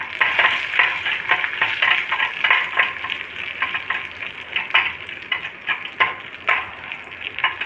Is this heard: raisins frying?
yes